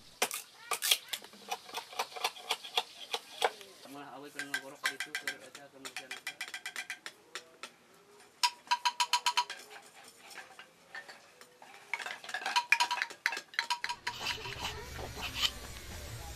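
A hand blade shaves and scrapes bamboo tubes to tune a calung, heard as bursts of quick rasping strokes separated by pauses, close and fairly faint, with a low rumble near the end.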